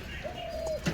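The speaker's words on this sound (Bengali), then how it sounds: "তো চলো এখন পায়রাগুলোকে ছাড়া যাক, নতুন পায়রাও আছে।" Pigeons being let out of their coop give a single soft, drawn-out coo, faint and close against a quiet outdoor background, followed by a brief low thump.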